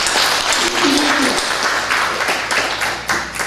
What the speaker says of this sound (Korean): 한 박수 칩시다